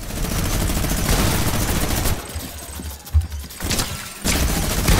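Gunfire in the video game Fortnite, loud and near: a sustained volley of shots, then a quieter gap with a few isolated bangs, and heavy firing again at the end.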